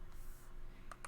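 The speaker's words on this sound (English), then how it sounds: "You hear that clicking?" Drawing tablet buttons clicking, two sharp distinct clicks near the end after a stretch of low background hum.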